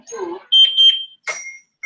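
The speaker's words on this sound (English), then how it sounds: "I thought it was my smoke detector." An electronic door alarm sounds like a smoke detector, giving a few piercing, high-pitched beeps in short bursts after a brief murmur of voice, close and clear against an otherwise quiet room.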